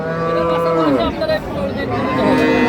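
A Holstein Friesian dairy cow at a cattle market lets out a long, loud, close moo that bends downward in pitch, followed by a second lower bellow.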